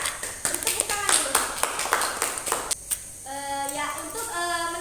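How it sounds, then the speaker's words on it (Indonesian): A school class claps for the most active group during a chemistry lesson: a few seconds of close, rhythmic hand claps, then a voice speaking as the clapping stops. "Tepuk tangan dulu."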